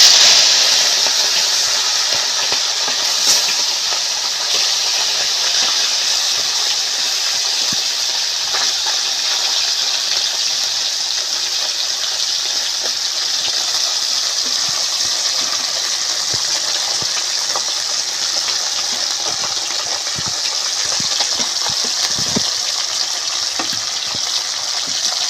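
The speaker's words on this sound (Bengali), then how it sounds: "এবার আমি মাছগুলো ভেজে নেব।" Bele fish fry in hot oil in a wok, a loud, steady hiss and sizzle with scattered crackles and pops that runs unbroken for about twenty-five seconds, close up and with no talking.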